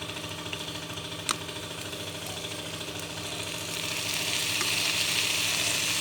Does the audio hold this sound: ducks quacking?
no